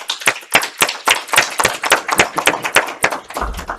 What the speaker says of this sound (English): But let's give Reverend Teresa a round of applause.